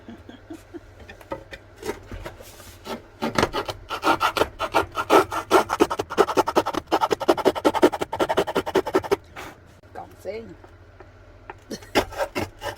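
A hand saw cuts through a wooden batten on a workbench during a minibus campervan conversion, making a run of loud, close, rhythmic back-and-forth strokes that speed up in the middle and then trail off into a few scattered scrapes.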